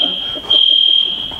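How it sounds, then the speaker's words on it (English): A classroom fire alarm sounds as a steady, piercing high electronic tone held throughout, with a voice talking faintly underneath. "that sets the fire alarm off"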